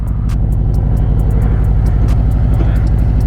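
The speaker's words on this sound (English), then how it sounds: "Oh, that thing sounds good already." A 2024 Harley-Davidson CVO motorcycle engine rumbles loudly and steadily close by, with a deep pulsing low end and slight revving swells.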